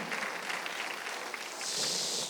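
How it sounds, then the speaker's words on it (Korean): Scattered clapping from a church congregation during a Sunday service, a soft steady patter of hands with a brighter hiss rising toward the end. "박수를 치며 하나님께 영광을 돌리시라고요"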